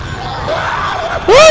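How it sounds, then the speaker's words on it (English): A short, loud rising shriek from a creature in Dead Space 2 cuts in sharply at the end, over a low hum of game ambience. "I heard shrieking."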